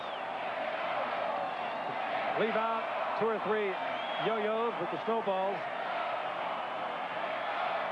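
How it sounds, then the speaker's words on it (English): Denver stadium crowd at a 1985 NFL game between San Francisco and Denver keeps up a broad, constant roar while a voice talks over it in the middle. "It's a great crowd, it really is."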